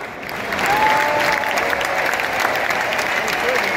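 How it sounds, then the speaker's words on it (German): Loud, sustained applause from a large stadium crowd at a halftime show of SV Darmstadt 98 versus Fortuna Düsseldorf, dense clapping building quickly and holding steady throughout. "Marvin, vielen Applaus, hast du dir verdient."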